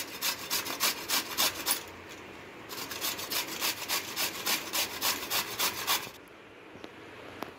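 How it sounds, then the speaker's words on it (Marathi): Raw mango scraped across a grater, close and rhythmic rasping strokes in quick repeated bursts, pausing briefly midway, then resuming before fading to quiet. "आता आपण हे किसून घेऊया।"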